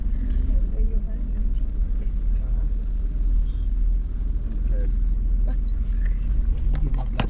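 Low engine rumble and idling of cars caught in a traffic jam on a city road, steady and close, with occasional faint clicks and brief sounds over it.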